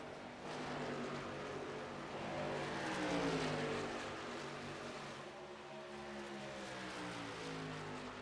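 Race car engines from an iROC Challenge event at Atlanta drone steadily together, several harmonic engine tones rising and falling as cars run side by side, continuous and fairly loud with no talk.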